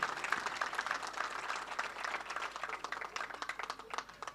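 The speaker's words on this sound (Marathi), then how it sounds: "एकदा जोरदार टाळ्या" A burst of audience applause for students of a speech competition at a Shiv Jayanti festival, many hands clapping together in a fairly faint, steady patter that thins out toward the end.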